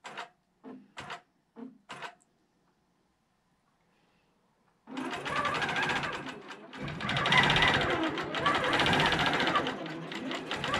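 A QCT5 Pro sewing machine sews a single stitch: four short quiet taps, a pause of near silence, then a sustained close mechanical whirring run of the machine lasting several seconds.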